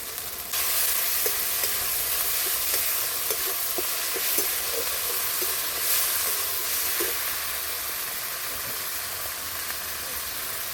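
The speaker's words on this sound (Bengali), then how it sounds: "এবার দিয়ে দিচ্ছি আমি বেটে রাখা রসুনটা" Ground garlic and ginger paste sizzles loudly in hot oil for a Bengali masoor dal, egg and potato curry, with a dense, continuous hiss and light stirring scrapes throughout.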